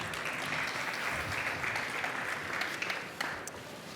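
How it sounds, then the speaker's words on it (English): A conference audience at a cybersecurity panel claps in sustained applause, fairly faint and distant, gradually thinning toward the end. "Give a round of applause for them."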